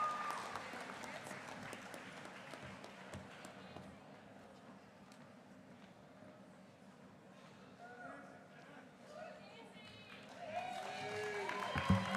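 A commencement ceremony audience claps after a reading of graduate names; the applause is loud at first, thins toward the middle, then swells again, with voices and cheers mixed in.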